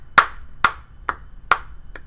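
Five sharp, isolated hand claps ring out in a slow, slightly uneven rhythm, close and crisp with quiet gaps between them, like one person giving a round of applause.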